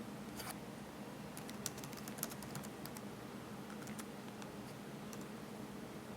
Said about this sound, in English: I'll just start typing in.